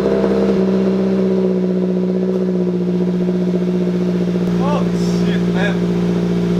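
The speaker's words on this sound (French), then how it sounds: "Cold start, 8 mois plus tard." A Rocket Bunny FRS engine idles after a cold start following eight months of storage, a loud steady drone that barely changes, while people talk over it.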